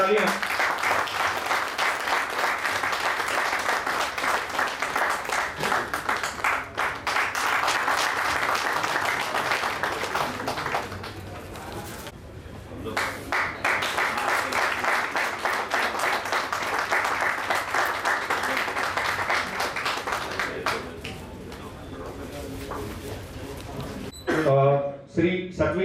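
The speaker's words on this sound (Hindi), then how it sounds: "जोरदार तालियां।" Members of the Baroda Road Transport Association give loud, continuous applause at their annual general meeting, with a short lull midway and a brief voice near the end.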